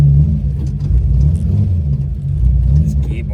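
A Holden Torana engine rumbles low and steady as the car pulls away, a continuous deep drone that swells slightly while driving off.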